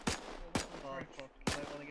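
US .30 cal machine gun firing in Arma 3 with a WW2 mod during a 1942 beach landing battle, three loud sharp bursts at even intervals with some echo between them.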